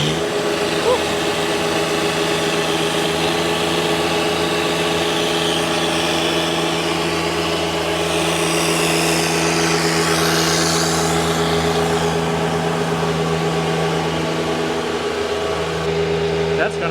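A turbocharged John Deere 1025R compact tractor runs under load on a dynamometer, a steady droning engine hum with a constant pitch and a faint whine over it, close and unbroken, with voices mixed in.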